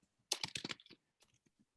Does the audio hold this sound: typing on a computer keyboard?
yes